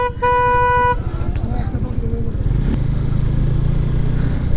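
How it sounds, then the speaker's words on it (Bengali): Heavy traffic near a toll plaza, with motorcycles passing in a steady droning stream while horns toot and blare up front and engines rumble underneath, and a person talks over the noise. "এত মোটর সাইকেল যাচ্ছে বাড়িতে"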